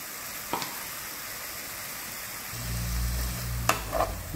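Spiced potatoes with green chilli, Kashmiri chilli, roasted cumin and turmeric being stirred in a pan, with a faint sizzle, a couple of sharp spoon taps and a low rumble partway through.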